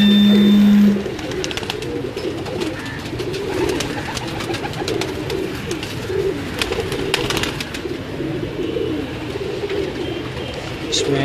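Sialkoti pigeons, a teddy pair, coo steadily from a rooftop loft, with soft low coos repeating under a busy background of chirps and ambient noise.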